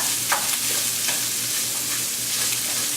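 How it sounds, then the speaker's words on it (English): Sausage browns in a hot pan with a steady, dense sizzle and frying crackle, close and continuous, with faint stirring scrapes now and then. "It's been browning. You can hear it sizzling well, so I'm going to turn it down a little bit."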